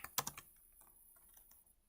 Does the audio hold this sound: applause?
no